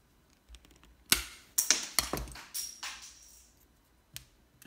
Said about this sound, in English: I'm going to use some flush cut pliers that work really well